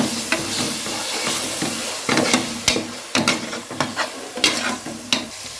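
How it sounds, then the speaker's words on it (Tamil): Masala sizzles in hot oil with coriander and mint leaves while a spoon scrapes and stirs the pan in repeated sharp strokes over a steady close frying hiss, with no talk. "இந்த மாதிரி எண்ணெய் பிரிஞ்சு வர அளவுக்கு வதக்கி எடுத்துக்கலாம்"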